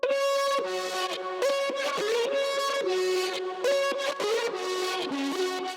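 Processed vocal chop drop lead, a bright, buzzy, synth-like sung line of sustained stepped notes that change pitch every half second or so, dense and continuous, loud and close with no talk.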